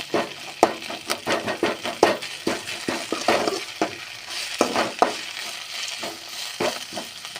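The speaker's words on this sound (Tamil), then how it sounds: "அதை அப்படியே கொஞ்சம் லைட்டாக உடச்சி விட்ட மாதிரி நல்லா கிளறிக்கிட்டே இருங்க" Egg and drumstick leaves being stir-fried and broken up in a pan, with rapid repeated scraping and clinking strokes of a spatula over a frying sizzle, close and fairly loud, no talking.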